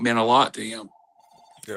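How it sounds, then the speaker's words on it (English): A telephone rings once, a short steady electronic tone that follows a man's speech and is cut off when the talk resumes. "Sorry about the phone ringing."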